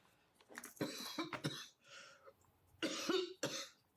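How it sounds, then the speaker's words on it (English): A woman gives a dry, tickly cough in several short hacking bursts at close range, with throat clearing between them and no other talk. "I've got one of those really dry, tickly, annoying coughs"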